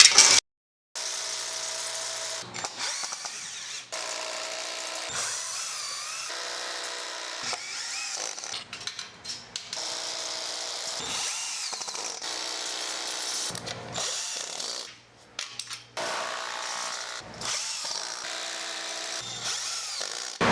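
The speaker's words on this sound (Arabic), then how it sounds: "بتجيب الزاويه بتاعتك وبتطلع تثبتها بالهيلتي على الاربع جوانب على الخيط" A Hilti hammer drill bores into a wall to fix a metal angle bracket along a chalk line during flat kitchen installation work; loud, sustained high-pitched whining bursts with brief pauses between runs, no talking.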